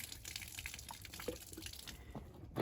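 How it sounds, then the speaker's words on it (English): Water poured from a jug onto outdoor ground, a steady splashing, trickling stream that runs for a couple of seconds at moderate, fairly close level with no talk over it. "We're going to pour this water out here on the ground."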